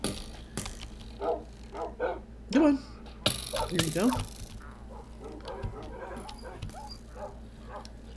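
Tamed dogs in the Minecraft video game give short yips, barks and whimpers in brief bursts over game sounds, with someone talking throughout.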